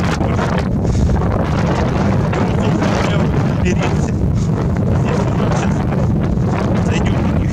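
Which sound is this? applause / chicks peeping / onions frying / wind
wind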